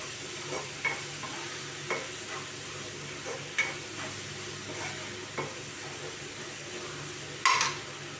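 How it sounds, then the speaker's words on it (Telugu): Spices and fish masala fry in a pan for fish biryani, a soft continuous sizzle broken by a spoon scraping and stirring every second or so, with one louder clatter near the end. "ఈ విధంగా వేసుకొని ఫ్రై చేసుకోండి అన్నీ."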